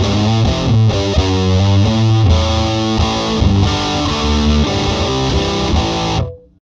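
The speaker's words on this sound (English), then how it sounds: "And not only does it sound phenomenal with distortion," Electric guitar with a Vola Zenith humbucker, a Tribal blue QRA model, played loud through heavy distortion, chords and riffs ringing steadily before the final chord cuts off.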